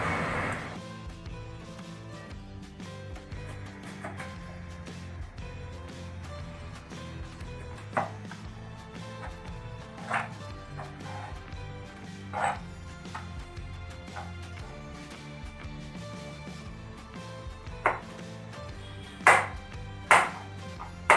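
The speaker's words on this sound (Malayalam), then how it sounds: "അപ്പോൾ നമ്മളിങ്ങനെ ചെറിയ ചെറിയ പീസുകളാക്കിയിട്ട് നുറുക്കിയെടുക്കുക" A knife chops tapioca into small pieces on a cutting board, with sparse, irregular cuts. A few sharper knocks land near the end over a quiet, continuous background hum.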